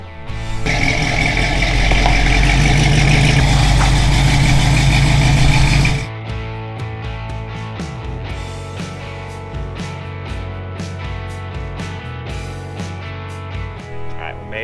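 An old Pontiac Firebird's engine runs loud and steady for about six seconds, then settles into a lower, rhythmic drone as the car drives on a sunny winter day, with a voice briefly heard over it.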